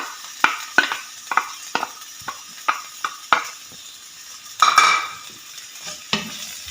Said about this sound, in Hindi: ये जो मीडियम प्याज किया था ये पहले इसमें जाएगा तेल में।